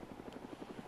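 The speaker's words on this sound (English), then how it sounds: "Oh god, that's the helicopter." A helicopter in the video game Arma II thumps with quick, regular rotor beats, faint and steady throughout the short burst.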